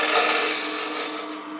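A steady dry rasping scrape of a hand tool rounding over the edge of a wooden napkin holder, continuous and close for a second and a half, fading slightly toward the end.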